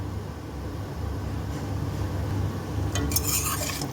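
Drumstick and potato thokku with coriander being stirred in a pan, a low steady scraping and shuffling close by, topped near the end by a few brighter clinks of the utensil.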